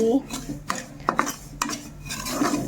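Semolina roasts on a low flame in a pan for kesari while a metal spoon stirs it, giving close, repeated scraping and clinking strokes with no talk.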